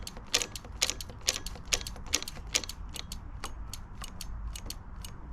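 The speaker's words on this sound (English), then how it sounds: "you have to pull a few times on the brake lever" Front brake lever on a Honda CBR650R motorcycle pulled again and again, producing a regular run of sharp mechanical clicks and ticks, close and fairly loud, with no talk.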